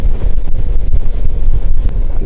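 Loud, rough wind buffets the microphone continuously on an Alpha moped ride, a dense low rumble with gusty fluctuations, as if riding fast in open air.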